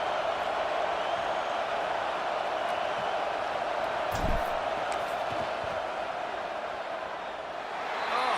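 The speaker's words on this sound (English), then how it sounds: "This crowd trying to do its part to get inside the kicker's head" Stadium crowd roaring steadily in a football video game as a field goal attempt is set up, a continuous loud wash of noise with a brief swell near the middle.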